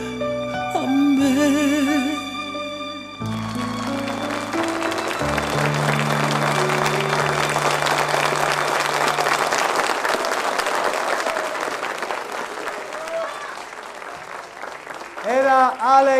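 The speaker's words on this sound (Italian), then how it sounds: "un bravo e un applauso va anche al nostro coreografo, a Sebastian Passati." A theatre audience applauds after a song in a stage show. A dense wash of clapping swells in after the final sustained notes and holds steadily, with music rising again near the end.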